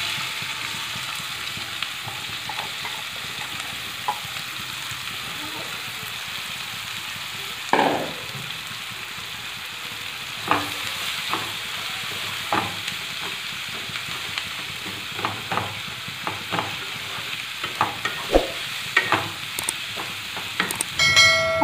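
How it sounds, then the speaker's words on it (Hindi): Onions fry in oil left over from frying eggs in a pan, a continuous soft sizzle with scattered clinks and scrapes of a utensil against the pan. "ऑनियन को तब तक फ्राई करें जब तक ये गोल्डन ब्राउन ना हो जाए"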